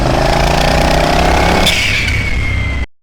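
A twin-turbo Triumph Bobber motorcycle engine runs loud and close with a rough, uneven idle and a brief rev, then cuts off abruptly.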